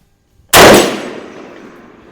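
A single rifle shot cracks out sharply at a shooting range, loud and close, then rings off into a long fading echo with no talking.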